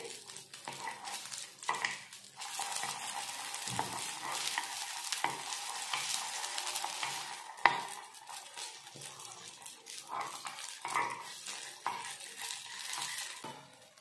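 Vrat appe frying in ghee in an appe pan over a low gas flame, with a steady close sizzle and repeated light metallic scrapes and clicks of a spoon flipping them, one sharper clink midway.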